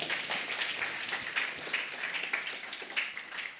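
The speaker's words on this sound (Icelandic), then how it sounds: "Gefum henni gott klapp." A small audience at a Reykjavík city neighbourhood-planning meeting claps steadily for several seconds, a dense patter of hands at moderate distance with no voices over it.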